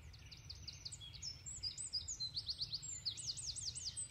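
A blackbird sings from a cherry tree, its clear whistled phrases and rapid chirping trills fairly distant and soft over a steady low background hum, with no voices.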